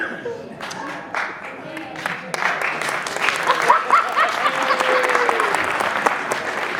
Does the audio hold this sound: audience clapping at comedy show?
yes